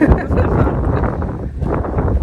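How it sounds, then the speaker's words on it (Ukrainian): Wind buffets the microphone in heavy, low rumbling gusts that swell and fade, loud and close throughout, in Sarafovo, Bulgaria. "Але тут так вітряно."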